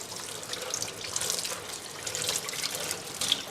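Running tap water splashes steadily into a kitchen sink while salmon is rinsed under it in Castropignano, Italy. The close, continuous hiss and patter is heard alone.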